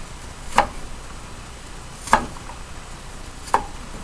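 A knife cuts around a vegetable for a summer salad, three crisp chopping knocks spaced about one and a half seconds apart on a board, close and clear with no talk.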